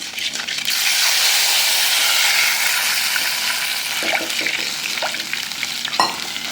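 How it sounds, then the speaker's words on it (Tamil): Tamarind water poured into a hot cumin tempering for dal pepper rasam, a loud sustained sizzle and hiss that gradually settles, with a few clinks and stirring sounds near the end. "இப்போ இந்த புளி தண்ணியை இதில் ஊற்றி கண்டிப்பான்."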